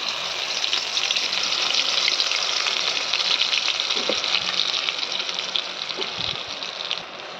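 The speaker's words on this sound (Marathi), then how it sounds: "तेल गरम झालंय, आपण हा मसाला टाकून देऊया आपण." Steady, loud sizzling of spice paste frying in hot oil, a continuous crackling hiss with a few soft stirring knocks.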